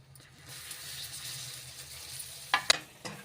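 Cluster beans and fresh coriander go into a hot pan of peanut-powder masala, giving a steady soft sizzle with a few sharper crackles and spits near the end.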